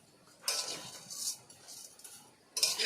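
Sugar being stirred into semai in a pot, a few short scraping, clinking spoon strokes against the pot in quiet bursts, close and fairly faint, without talk.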